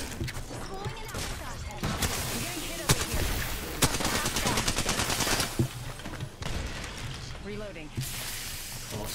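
Rapid automatic gunfire from the Apex Legends video game rattles in dense, steady bursts with sharp individual shots, while voices talk over it.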